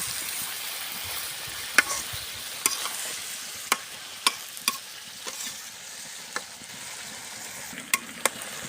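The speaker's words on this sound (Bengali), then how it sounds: "আবার ভালো করে নেড়ে দেব তো কপি বেগুন সবজি সকাল ভোরে রান্না করা হচ্ছে" Cabbage and eggplant fry in a pan over early-morning cooking heat, with a steady soft sizzle and sharp scraping clicks from a spoon stirring them at irregular intervals.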